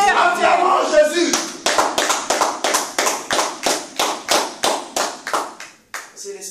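Church congregation at a French-language worship service claps in a steady rhythm with scattered cheering, loud and close, starting amid a burst of voices and settling into repeated hand claps.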